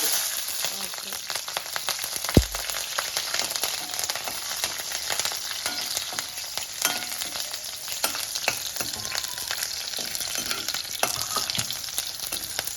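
A little oil frying in a kadai gives a steady close sizzle and crackle, with scattered light utensil clicks and one sharp knock early on, and no speech over it.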